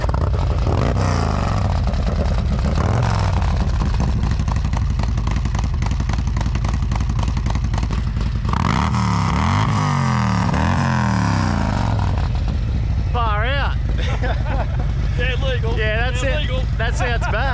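A Harley-Davidson Road King motorcycle engine rumbles and revs loudly throughout, rising and falling, with people talking over it.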